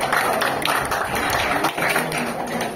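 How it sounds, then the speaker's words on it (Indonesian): Audience applause at a volunteer rally opening a campaign house, a dense, steady wash of clapping that holds for about three seconds at even loudness. "Tepuk tangan untuk beliau."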